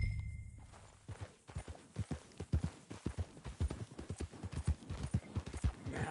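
Hooves clip-clop in a steady, brisk rhythm of sharp knocks in the video game Red Dead Redemption, close by and growing more regular as the horse moves along.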